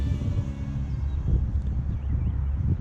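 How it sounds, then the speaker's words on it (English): Wind buffets the microphone with a steady low rumble and gusty rustling, fairly loud and continuous throughout. "right now it's windy"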